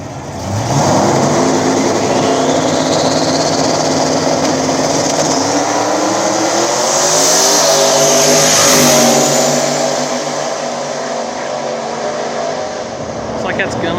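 A turbo Fox body Mustang and a twin-turbo Falcon roar down a small-tire no-prep drag strip, engines screaming at high revs and climbing through gears, loud and close for the whole run.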